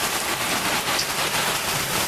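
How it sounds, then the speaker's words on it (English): Heavy rain pours down steadily during a storm with lightning, beside a flooded front yard, making a dense, loud, continuous hiss with no pauses. "It is raining so hard right now."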